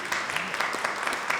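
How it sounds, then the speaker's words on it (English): A brief burst of audience applause at a clean energy and global opportunity panel, dense steady clapping throughout. "give him a round of applause for that lovely introduction"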